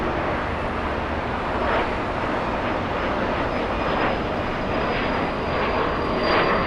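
An airplane at LAX gives off a continuous engine roar with a low rumble, steady and fairly near, with no voices.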